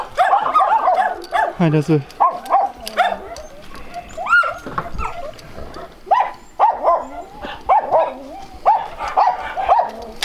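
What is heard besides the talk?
sheepherding dogs barking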